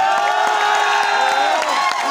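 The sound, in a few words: crowd applauding at a kabaddi match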